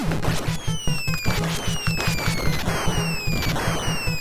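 Bombs bursting in Contra, the 1987 Nintendo NES run-and-gun game: sharp, crashing chiptune explosions repeat in a rapid, steady rhythm over a pulsing low game soundtrack, loud and continuous with no voices.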